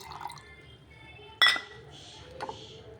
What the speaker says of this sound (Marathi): यामध्ये आपण पाणी घालून घेऊया